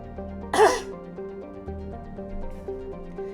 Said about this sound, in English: I swallowed some water the wrong way today, and since then I've just been coughing.